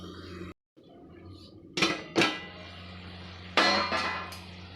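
Metal lid clanks onto a cooking pot of moong dal in a home kitchen: a few sharp, close metallic clinks and clangs in quick succession over a steady low stove hum.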